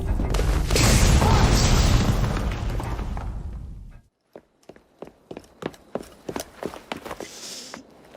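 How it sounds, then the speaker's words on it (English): A large explosion in Assassin's Creed Syndicate, a heavy deep boom rumbling for about four seconds before cutting off, followed by quieter scattered footsteps and movement sounds. "What was that explosion?"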